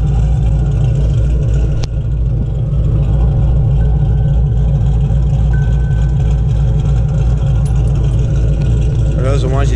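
A 2001 Ford Mustang Bullitt V8 fitted with stage 2 cams runs steadily up close, a loud, choppy idle with a rhythmic lope throughout, one brief sharper blip early on.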